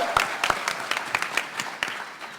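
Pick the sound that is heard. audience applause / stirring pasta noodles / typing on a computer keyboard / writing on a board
audience applause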